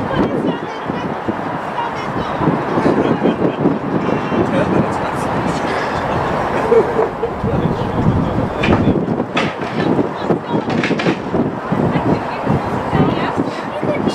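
A Coca-Cola Kenworth truck at a holiday event in Belfast rumbles loudly and continuously nearby, with wind buffeting and voices underneath.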